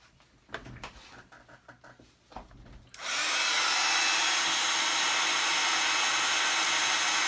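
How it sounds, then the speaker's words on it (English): An embossing heat gun switches on for craft work on anniversary invitations, a loud steady close whoosh of blown hot air that runs without a break after a few seconds of quiet handling sounds. "And then hit it with the embossing gun again."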